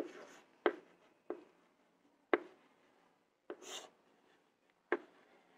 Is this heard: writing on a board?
yes